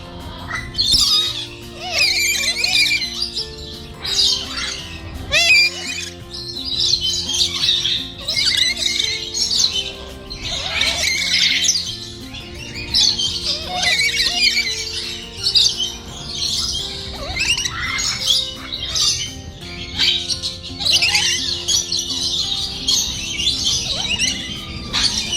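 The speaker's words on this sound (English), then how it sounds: "In the bird park, we had a very exciting opportunity to take photographs with the eagles, hornbills, and macaws." Many birds call, squawk and chirp continuously at a bird park in Kuala Lumpur's botanical gardens, home to eagles, hornbills and macaws, with a steady low tonal hum underneath.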